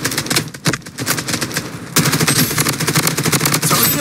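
BloodStrike gunfire rattles in rapid, continuous automatic bursts, loud and close, briefly pausing before resuming denser and steadier to the end.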